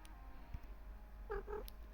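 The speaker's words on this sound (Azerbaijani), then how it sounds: "Pişik də məni dəstəkləməyə gəlib hətta." A cat close by gives a low purr and two short meows in quick succession, faint against a quiet indoor background.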